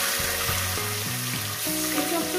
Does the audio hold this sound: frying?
yes